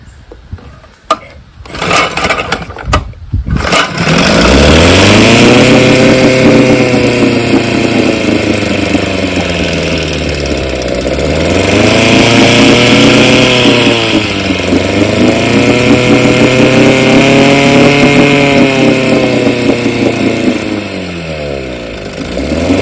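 An Evinrude outboard motor with a freshly cleaned carburetor, starting after a few rough pulls, then running loud and close with its revs repeatedly rising and falling.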